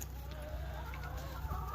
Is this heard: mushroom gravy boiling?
no